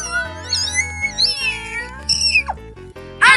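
Several cats meow in quick succession inside the video game GTA 5, with bright rising and falling cries, some overlapping, over a steady low game background hum.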